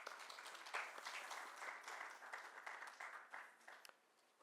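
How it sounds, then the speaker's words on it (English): Audience applause at an evening tribute event, a faint, distant round of clapping with scattered individual claps rising and falling over several seconds. "A round of applause for him, please."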